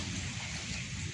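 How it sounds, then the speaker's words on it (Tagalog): Rain falling over Manila Bay near Dolomite Beach, a steady dense hiss with a low rumbling undertone, continuous and fairly loud throughout. "Nag-uulan mga bayan eh."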